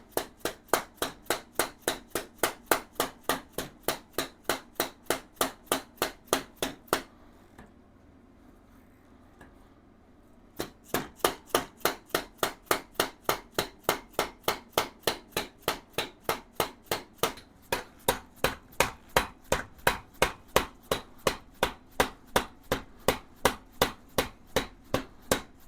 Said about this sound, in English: Let me get a dead blow hammer on it.